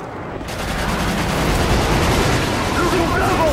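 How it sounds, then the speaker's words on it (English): Friendly airstrike in a military shooter game: a continuous loud roar of blasts and rumbling gunfire that swells and stays dense throughout, with no distinct pauses. "Friendly airstrike on the way!"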